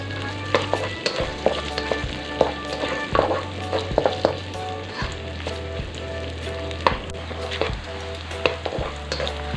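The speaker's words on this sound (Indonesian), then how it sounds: "sekarang aku mau masukin dulu sosisnya. Jadi sosisnya mau aku goreng dulu" Sausages fry in a little vegetable oil with a constant close sizzle and crackle. Utensils give irregular clicks and scrapes as the food is stirred, and a low hum from the stove runs underneath.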